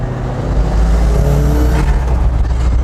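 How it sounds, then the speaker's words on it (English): A turbocharged 300 bhp Mazda MX-5 runs on a high boost setting, its loud engine roar topped by a rising turbo whistle over about three seconds, close to the microphone. "just to give you an idea of the difference in sound when the turbo comes on"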